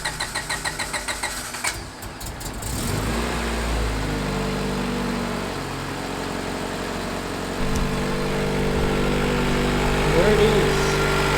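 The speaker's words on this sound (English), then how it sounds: "I think I'm gonna give it a crank just to hear it go on." A Honda CRX engine, unstarted for months, cranks with a rapid rhythmic starter whir for about two seconds, then catches and settles into a loud, steady idle close by.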